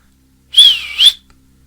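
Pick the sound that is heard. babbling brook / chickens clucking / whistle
whistle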